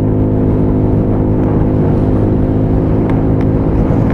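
A loud, steady Royal Alloy scooter engine drone close by as it accelerates, holding a constant humming tone throughout without pauses.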